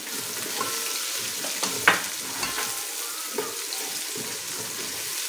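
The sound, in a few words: chopped onion frying with ginger garlic in pan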